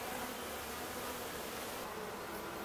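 Honeybees on a hive frame give a dense, continuous buzzing hum, close and steady, with no voices over it.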